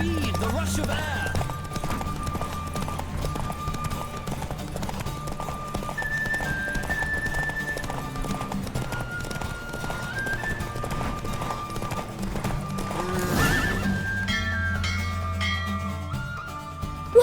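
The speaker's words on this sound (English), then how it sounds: "Don't spare the horse! I adore the speed, the rush of air." A horse gallops in the video game Witcher 3, with continuous rapid hoofbeats under background game sound and a loud neigh late on before the pace eases.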